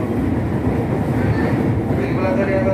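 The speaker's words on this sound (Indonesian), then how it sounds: "Kereta api Gaya Baru Malang Selatan tidak lama lagi akan berhenti di stasiun" Passenger train Gaya Baru Malang Selatan arriving at Lempuyangan station, a steady loud rumble of rolling wagons heard from inside the carriage, with faint voices in the background.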